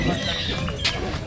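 Racehorses at a horse race in Lucban, with hoof sounds and horse noises in a busy outdoor crowd, mixed under nearby talking voices.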